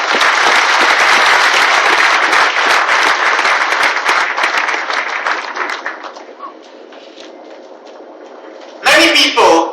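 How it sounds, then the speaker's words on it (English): Audience applause for people on stage at a corporate event, a dense loud wash of clapping for about six seconds that fades out, followed by a brief burst near the end. "I'd like you all to applaud the people on the stage here."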